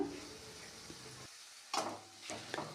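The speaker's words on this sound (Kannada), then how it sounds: "ಹಾಗಲಕಾಯಿ ಎಲ್ಲ ಚೆನ್ನಾಗಿ ಎಣ್ಣೆ ಒಳಗೆ ಫ್ರೈ ಆಗ್ಬೇಕು" Bitter gourd pieces frying in oil with onion for a North Karnataka-style palya: a soft steady sizzle with stirring scrapes, a quiet pause, then a few louder clatters of the spoon against the pan.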